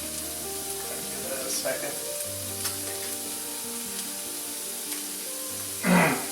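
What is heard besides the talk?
fish searing in a hot pan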